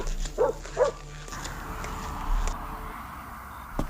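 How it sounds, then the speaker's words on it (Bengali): A dog gives two quick yelping barks on an empty street at night, close and sharp, followed by soft whimpers over a low hum. "দু একটা কুকুর ঘোরাফেরা করছে।"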